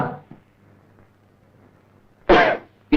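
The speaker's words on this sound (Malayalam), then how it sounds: "നിന്റെ ചുമ എങ്ങനെ ഇരിക്കുന്നു?" A single sharp cough bursts out near the end of an otherwise quiet stretch, followed by a brief second cough cut short.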